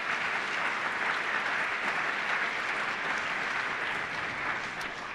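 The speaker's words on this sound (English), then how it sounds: "a round of applause, please, for all the staff at the college for their support" An audience at a college of law first-year welcoming ceremony gives steady, full applause for the college staff, a thick wash of many hands clapping at a constant level that fades slightly at the close.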